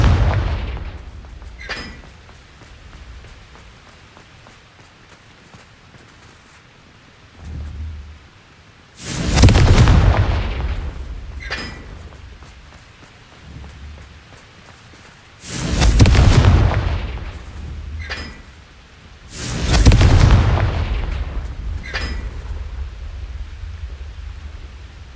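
Confringo fire spell explosions in the Hogwarts Legacy video game: three loud, booming blasts a few seconds apart, each rumbling and trailing off, with quieter thuds and crackles between them.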